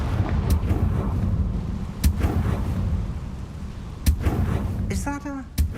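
Confringo fire spell from the video game Hogwarts Legacy, sharp blast transients cutting through a busy game mix of ambience and music, with a final burst and crackling tail near the end.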